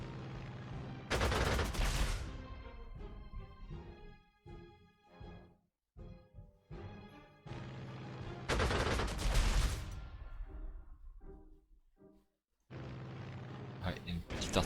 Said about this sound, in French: il y a une petite artillerie là